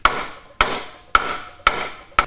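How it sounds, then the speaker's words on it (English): A hammer strikes a wooden 2x4 to work the end cap out of a dirt bike silencer canister, giving five sharp, evenly spaced knocks about half a second apart, each ringing briefly, close and loud. "use a hammer, and you're just going to slowly work the end cap out of the end of the canister."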